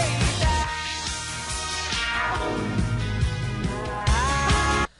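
Full music mix with a sweeping phaser effect applied, the swirling filter modulation rising and falling through the bass under a steady beat, loud throughout before cutting off abruptly near the end.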